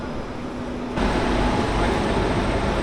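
The Deccan Queen passenger train on the Pune to Mumbai line gives a steady, close, loud rumble that swells abruptly about a third of the way in and then holds as a dense, even roar.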